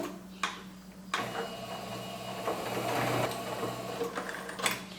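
A sewing machine runs a 3.5-length stitch along the seam of a double insulated bag, a fast steady mechanical whir that stops and starts, with a few clicks between stitching bursts.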